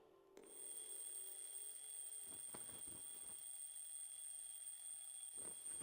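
Steady, piercing electronic alarm clock ringing in an anime scene, continuous and loud throughout, with a few soft thuds and rustles underneath.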